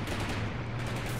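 Gunfire in Graviteam Tactics: Mius Front, a short burst of dense, rattling shots in a wartime battle.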